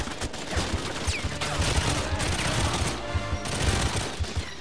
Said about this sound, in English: I'm running out of bullets for this gun, ammo, sorry.